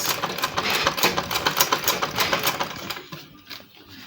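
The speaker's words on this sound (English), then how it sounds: "So just keep on stitching along, but make sure it's as close as possible." A manual sewing machine stitches an invisible zipper in a rapid, steady mechanical whir of close needle strokes that runs loud, then slows and fades near the end, with no talking.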